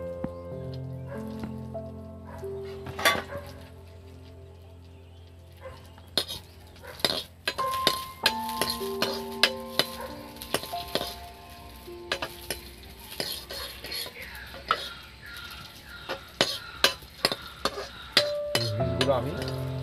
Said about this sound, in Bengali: কিশমিশগুলো আমি ভেজে নেব।